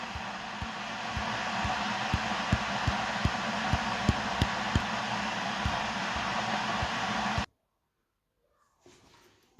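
Electric mixer grinder grinding cooled roasted mung beans into a lumpy powder, a loud steady motor whir with rhythmic knocking for about seven seconds, then it stops abruptly and near silence follows.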